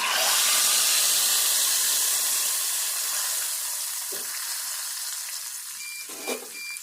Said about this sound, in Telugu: ఈ తాలింపు అంతా కూడా ఇప్పుడు ఇందులో వేసుకోవాలి.